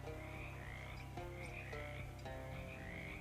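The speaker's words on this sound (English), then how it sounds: "These frogs are talking." Frogs in the video game Shadows Over Loathing croak in a soft, repeated chorus, rhythmic trilling calls recurring steadily under a low background hum, with no talking.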